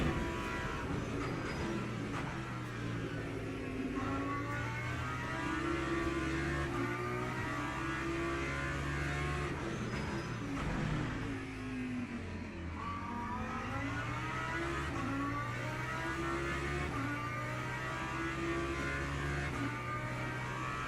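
Race car engines in the Le Mans Ultimate sim during an online GT3 event, a steady loud drone with shifting pitch as a faster car overtakes, rising and falling revs running continuously throughout.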